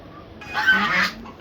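Ducks heading out of a poultry shed in the morning, alongside hens and pigeons, let out a single harsh, nasal quacking call over a quiet background.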